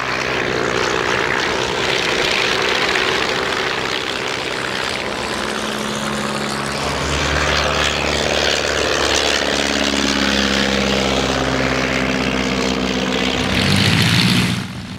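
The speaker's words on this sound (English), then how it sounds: "the yellow and red military PT-22 sports a larger 5-cylinder radial engine," A yellow and red military Ryan PT-22 monoplane with a five-cylinder radial engine passes overhead, its loud, throbbing propeller drone holding steady and then rising as it draws close near the end.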